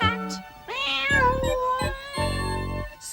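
A cat meowing loudly and close, several drawn-out, wavering calls with brief pauses between them, alone and clear.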